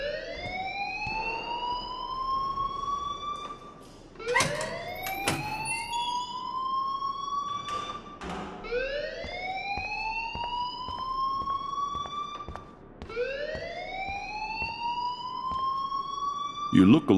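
A school alarm rings repeatedly in the video game Life Is Strange, a loud rising siren-like wail that repeats about four times over background talk.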